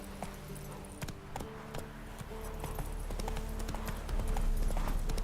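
Roach, a horse in The Witcher 3, clip-clops at a steady walking rhythm, close and clear over a low ambient game backdrop with music-like tones.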